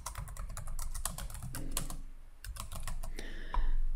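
Fingers type on a computer keyboard at a desk, a close, quick run of crisp key clicks with uneven rhythm and small pauses, no talking.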